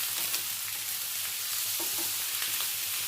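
Green chilli, ginger, coconut and shallot masala paste frying in a pan, a steady close sizzle running the whole way with faint stirring scrapes and no voices.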